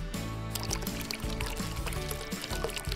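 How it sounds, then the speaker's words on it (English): Resin hardener is poured into a mixing container for making garden-themed resin keychains; a soft continuous liquid pour runs the whole time beneath steady background music. "The first step is to grab your hardener and pour one part into your mixing container."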